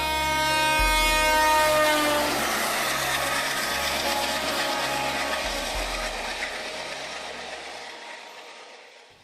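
The Konark Express at full speed, a loud steady rumble of rolling wagons with a long sustained horn blast early on, gradually fading away over several seconds.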